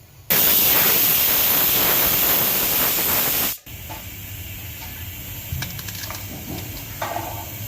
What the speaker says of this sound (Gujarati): બે મિનિટ પાલકને બાફી નાખીએ બે થી ત્રણ મિનિટ બાફવાની છે